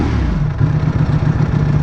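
A Ducati Panigale V4 SP2 motorcycle engine idling up close, a loud, steady low rumble with a pulsing beat running through the whole short stretch, with no voices.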